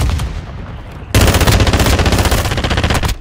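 Automatic machine gun fire in Call of Duty: a quieter burst of shots at first, then a loud, sustained rapid stream of gunfire lasting about two seconds, up close.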